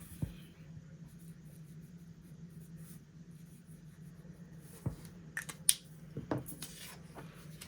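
Pen marking off squares on a paper savings challenge sheet, soft scratchy strokes over a low steady hum, ending with a few sharper taps and rustles close by.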